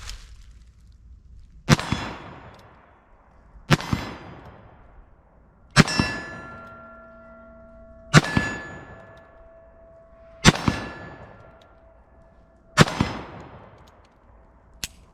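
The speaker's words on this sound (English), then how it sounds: "So this will probably be the last cylinder I'll fire through it." An 1858 Remington black powder revolver is fired six times, evenly spaced loud cracks about two seconds apart, each ringing out with a metallic tail before quiet, no talking.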